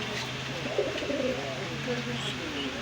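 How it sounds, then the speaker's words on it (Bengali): Red-necked pigeons coo softly in a low, repeated murmur, with steady background hiss throughout. "এই যে গলালাল কবুতর, কবুতরটা খুব সুন্দর কোয়ালিটির কবুতর"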